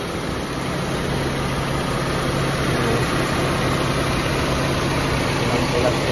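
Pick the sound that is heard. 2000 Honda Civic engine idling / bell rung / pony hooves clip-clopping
2000 Honda Civic engine idling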